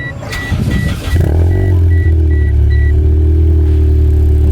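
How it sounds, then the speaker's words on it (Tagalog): A car with a Blitz N1 muffler cold-starts: a brief cranking burst, then the engine catches and settles into a loud, steady low idle rumble close by. "So let's do a cold start."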